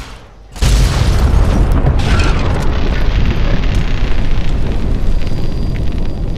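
A nuclear weapon detonates in the game Fallout: New Vegas, a sudden massive boom after a brief quiet moment, then a sustained loud roaring rumble that fills the rest of the clip without fading.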